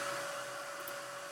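A hair dryer blows steadily over a mixed media textured art journal page, a constant loud whirring hum with an even airy hiss and no pauses.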